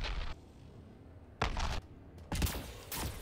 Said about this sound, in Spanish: seguimos oyendo explosiones